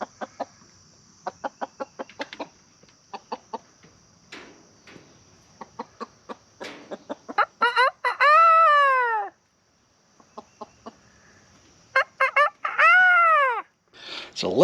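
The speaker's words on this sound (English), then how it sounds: "let's see if we can get him to do one of his famous little bantam crows" A small bantam rooster crows twice, in loud arching calls around the middle and end, after a run of sharp clucks and pecking ticks in an off-grid farmyard.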